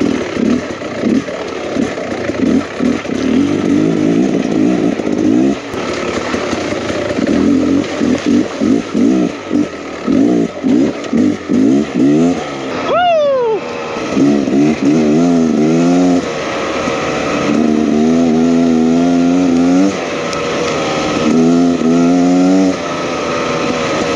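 A 2023 Beta Xtrainer 300 enduro motorcycle's two-stroke engine is ridden hard, revving and dropping in repeated bursts, then rising in long climbing wails through the gears, loud and close throughout.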